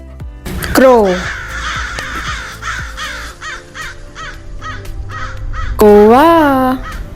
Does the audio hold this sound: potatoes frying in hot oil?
no